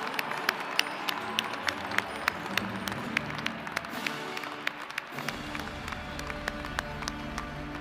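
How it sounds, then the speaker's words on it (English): Sparse, fairly distant applause from a commencement audience at a university ceremony for doctoral, MFA and medical degree graduates, scattered sharp claps over a quiet hall that thin out toward the end. "Let's give another round of applause for these graduates."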